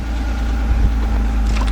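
Vauxhall 2.5 litre six-cylinder car engine running with a steady, smooth low rumble, revving slightly and staying close and loud throughout with no voices.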